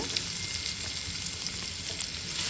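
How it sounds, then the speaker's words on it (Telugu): Chopped onions frying in a pan, an even hissing sizzle throughout with faint stirring taps, close and unbroken by speech. "ఇందులో కట్ చేసుకున్న ఉల్లిపాయలు వేసుకుని ఇది కాస్త వేపుకోవాలి"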